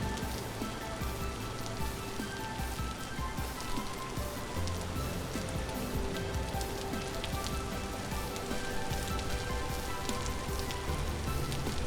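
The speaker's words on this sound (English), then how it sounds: "This is always rainy here" Steady rainfall in the survival game Vintage Story, a dense continuous hiss of drops spread evenly with no pauses, close and fairly loud for the whole stretch, with no talking.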